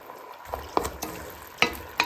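Black pepper pork stir-fries in a pan, a soft steady sizzle punctuated by a few irregular utensil clacks and scrapes, close by and fairly quiet.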